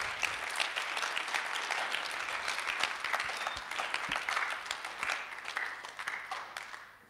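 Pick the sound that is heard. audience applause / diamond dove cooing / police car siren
audience applause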